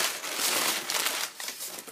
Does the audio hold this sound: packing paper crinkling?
yes